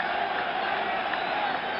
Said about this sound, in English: Crowd roaring his name, roaring for the Yankees.